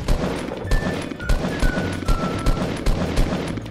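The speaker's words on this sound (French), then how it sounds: "Oh ça tire, qui a tiré?" Gunfire in the Fortnite video game crackles in rapid irregular bursts of sharp shots over a constant noisy game backdrop, fairly loud throughout.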